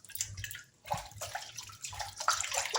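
Tap water runs and splashes over a freshly peeled potato being rinsed at a kitchen sink, a close, steady broadband gush with irregular spattering surges as the potato is turned under the stream.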